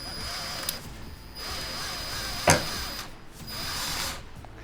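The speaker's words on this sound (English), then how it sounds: "So first thing we're gonna do is get this nut broke free." A tool loosens a nut on the front coilover of a Corvette C8 Z06, with a steady mechanical whir, ratcheting clicks and one sharp metallic snap midway, heard close with no talking.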